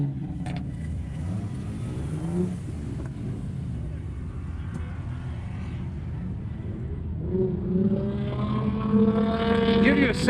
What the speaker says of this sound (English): Give you a sense of the vehicles that were out here drifting tonight.